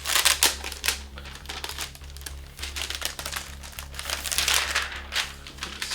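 Plastic and paper packaging crinkles and crumples in near, steady bursts as an Acer Predator Triton 14 gaming laptop is pulled from its box, with a low hum underneath.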